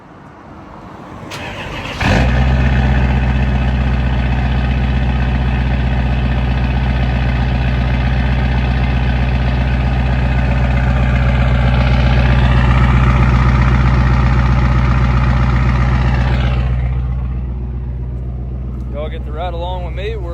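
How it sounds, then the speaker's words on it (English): Cold start of a 6.7 Powerstroke diesel race truck with VP44 pump on a cool morning: a starter crank then a loud, steady rumbling idle close by, settling slightly quieter near the end. "I figured I would do a somewhat cold start"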